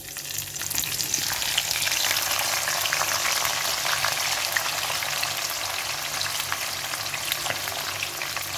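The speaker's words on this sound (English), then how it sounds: "now that my oil is hot, I'm going to put in my chopped onions" Chopped onions frying in hot oil in a pan, a steady dense sizzle with crackling pops that holds loud and even throughout, no voices.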